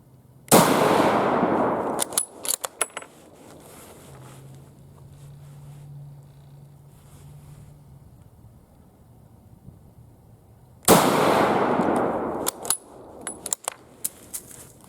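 A U.S. Model 1898 Krag–Jørgensen rifle fires two loud, sharp shots about ten seconds apart at an outdoor range, each followed by a brief echo and faint clicks, with a quiet background between them.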